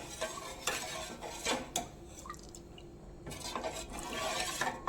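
Thick black urad dal porridge is stirred in a pot on low heat, the spoon scraping the bottom in repeated strokes that bring soft wet scrapes and light metal clinks, close and clear, with no talking.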